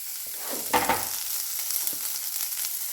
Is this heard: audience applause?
no